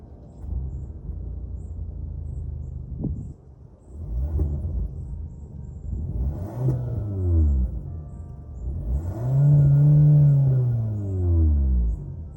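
A 2021 Kia K5 GT-Line's 1.6-liter turbo engine starts and revs several times, each rev rising and falling in pitch over a steady low idle rumble, heard close with no talking.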